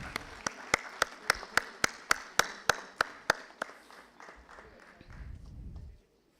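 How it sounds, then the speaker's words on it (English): About a dozen sharp, evenly spaced claps ring out at a national conference on responsible business conduct, hollow and reverberant in the hall, slowing and fading into a brief low rumble before silence. "A big round of applause,"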